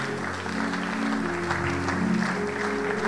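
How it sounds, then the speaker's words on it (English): Steady clapping from a church congregation at a Koinonia gathering as couples come forward, continuous and dense, blended with sustained musical tones from instruments playing underneath. "Please keep clapping as they come."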